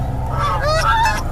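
Geese honk at a tented eco campsite in Bakkhali, with a run of loud, close, overlapping honks that carry on through the whole moment over a low steady hum.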